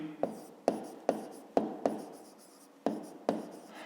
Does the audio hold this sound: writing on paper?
yes